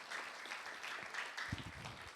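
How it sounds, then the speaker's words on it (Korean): Applause from a church youth gathering welcoming guests, a steady dense patter of many hands at moderate distance, with a brief low voice-like thump near the end. "환영의 박수."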